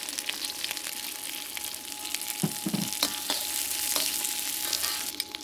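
Onions and ginger fry in hot oil with a loud, continuous crackling sizzle, a few sharper spits and clatters midway as they are stirred, no talking.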